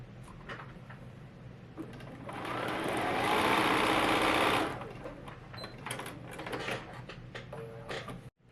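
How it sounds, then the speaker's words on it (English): Sewing machine stitching two quilting fabric squares together in one steady whirring run of about two and a half seconds, with quieter handling clicks and rustles before and after. "take our 2 squares and sew them together"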